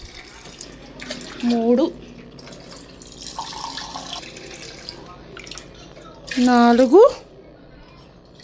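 Water is poured by the glassful onto rice for an aloo biryani, making two distinct splashing gushes several seconds apart. A person speaks between and over the pours.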